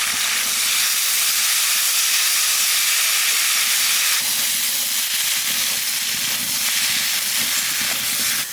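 Potato and kohlrabi frying in a pan, giving a loud, continuous, dense hiss that barely changes from start to end, with no voices.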